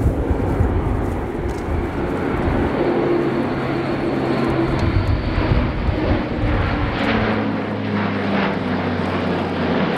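An Airbus A400M military transport aircraft in a flying display at an air show, its turboprop engines roaring steadily and loudly throughout, with a slight shift in tone as it manoeuvres.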